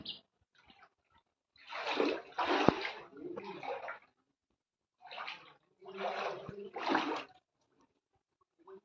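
Floodwater that has entered a house in Bengal. Water sloshes and splashes in several bursts of a second or two, with quiet pauses between them. The sound is close and fairly loud, and no one talks.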